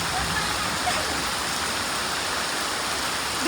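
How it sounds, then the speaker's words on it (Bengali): Steady rain pouring outside onto a leaf-strewn home courtyard, a dense continuous hiss heard at moderate distance without letup. "বৃষ্টি শুরু হয়েছে দেখো"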